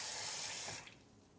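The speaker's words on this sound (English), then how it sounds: "So I'm just gonna do this, gonna fill this up till it's fully covered in water." Tap water runs steadily into a pot with a bright, hissing rush, then cuts off abruptly near the end, leaving quiet room tone.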